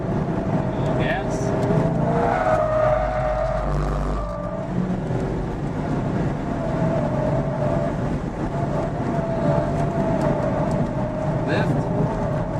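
Car engine on a skidpad, running under steady load with a brief dip and surge as the throttle is lifted and reapplied, tyre and wind noise beneath, loud and close throughout with an instructor's voice faintly over it.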